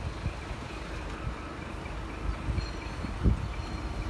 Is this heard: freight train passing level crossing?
yes